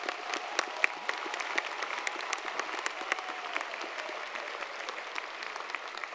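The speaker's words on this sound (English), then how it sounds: "Please join me in giving our stage party a round of applause" A commencement audience at Moraine Valley gives the stage party a round of applause, dense crowd clapping with crisp individual claps standing out, held at an even level throughout.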